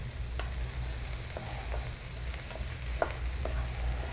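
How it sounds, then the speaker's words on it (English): Quiet, steady sizzling of summer vegetables frying in a pan, with occasional light pops and scrapes over a low background hum. "So my summer vegetables are sizzling now."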